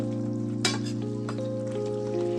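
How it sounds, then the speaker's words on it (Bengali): Flat beans fry in mustard oil and get stirred in the pan, a steady sizzle over a constant stove hum, with a couple of sharp scrapes of the spoon. "এবারে একটুখানি এটাকে নাড়াচাড়া করবো, একটু নাড়াচাড়া করবো।"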